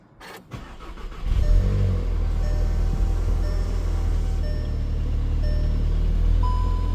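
A starter cranks briefly, then a 2017 Volkswagen GTI engine catches and settles into a steady, loud idle rumble nearby.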